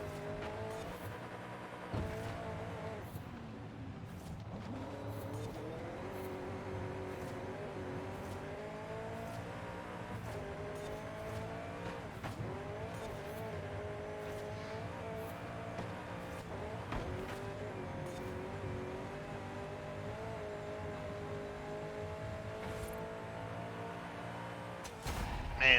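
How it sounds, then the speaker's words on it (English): A 1993 Ford Mustang engine in Forza Horizon 5 drones steadily under load, with shifting revs and occasional tire noise, heard continuously at moderate level. "Man, that's a good sounding car."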